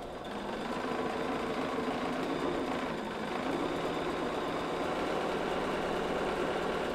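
Domestic sewing machine stitching a quilt seam on the bias, running steadily at a near, even hum for the whole stretch with no talking.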